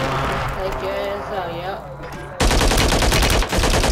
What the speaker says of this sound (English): They shooting on the roof.